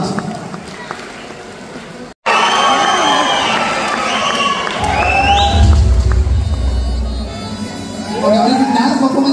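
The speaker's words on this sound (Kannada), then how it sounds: "ಬನ್ನಿ ಜೋರಾದ ಚಪ್ಪಾಳೆ ಫಾರ್ ಶ್ವೇತಾ ಭಟ್" Loud applause and cheering from the crowd at the Golden Reels Awards 2024 show for Shweta Bhat, a sustained roar of clapping and shouts that swells after a brief pause, with voices mixed in.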